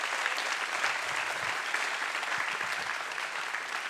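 Church audience gives the youth worship team a sustained round of applause, a dense, even wash of clapping from many hands filling the room without talk.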